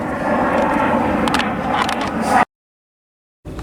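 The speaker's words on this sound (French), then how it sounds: "et on laisse passer l'avion" A fixed-wing airplane passes overhead above an outdoor garden, a steady broadband engine roar that holds loud and even for over two seconds before cutting off abruptly, then briefly resuming.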